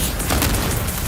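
An explosion in an animated battle, a loud, dense burst of boom and crackle that fills the whole short moment with no break.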